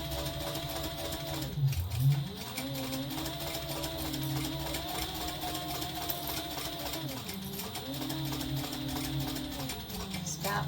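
A sewing machine stitches and back-stitches a zipper pouch seam, its steady mechanical whir slowing and speeding as the direction changes, with a brief pause partway through.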